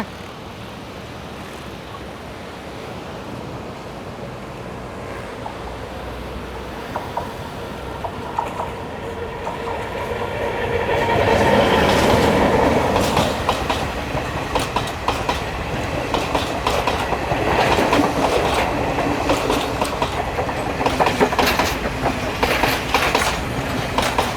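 A train rumbles past at close range on a busy line in Colombo, Sri Lanka, swelling from a distant approach into loud rattling wheels and clacking cars, with no voices.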